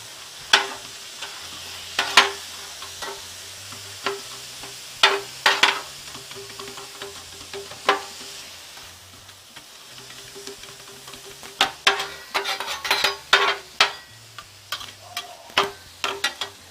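Vegetables cook in a pan for lobster quesadilla, with a soft steady sizzle broken by sharp scrapes and taps of a spatula spreading them out, the clatter bunching toward the end.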